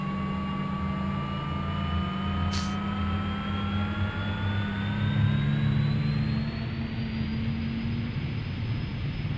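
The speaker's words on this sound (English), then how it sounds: "Sounds like a good engine start to me." An Embraer E175 jet engine starts up in the X-Plane 11 flight simulator, a loud, steady roar with whining tones that rise smoothly as it spools up to idle, heard alone throughout.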